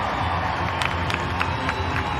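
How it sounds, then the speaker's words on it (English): Crowd along a rugby sideline cheers and claps after a try in a women's match, a dense continuous roar of applause with scattered sharp claps and shouts. "The applause from the sideline."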